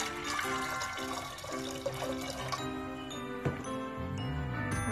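Water pouring and splashing into a metal pressure cooker, with clinking, tinkling metallic sounds and a gurgling shift near the end.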